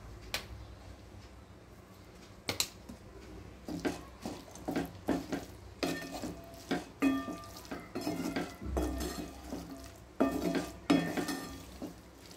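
Crushed peanuts are stirred into a pan of cooking cowpea pod vegetable: a spoon scrapes and clinks against the pot in uneven bursts over a faint sizzle, close and fairly quiet, with no voices.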